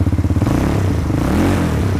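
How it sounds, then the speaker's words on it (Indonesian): A 200 cc ATV Dazzle 200 Matic from 2024, fitted with a muffled exhaust silencer, cranks with a quick series of starter pulses, then catches and settles into a steady, close, loud idle. "Dengan mesin 200 cc dan dengan dilengkapi dengan silencer knalpot yang bikin adem suaranya nih"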